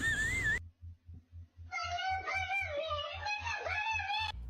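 A cat meows in a long, wavering cry followed by a second drawn-out, rising and falling meow, close and loud, over a steady low pulsing hum.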